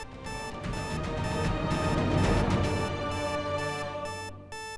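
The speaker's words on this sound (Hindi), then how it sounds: "ये तो हमारी तिजोरी का अलार्म है।" A household safe's alarm rings loudly and without a break for about five seconds, a steady, harmonically rich electronic tone in a domestic drama setting, with no talking.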